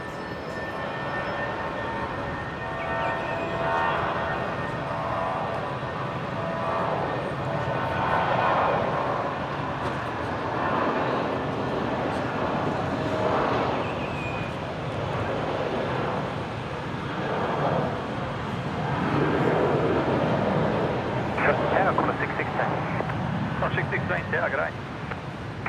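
A Jetstar Airbus A320 takes off from runway 19 left, its engine roar building and swelling in long, broad waves at a moderate distance, with some voices over it.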